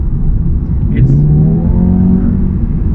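A Mercedes-AMG A35 hatchback's 2-liter turbocharged engine hums and rises in pitch as it revs up, steady and fairly close, with a faint voice briefly in the background.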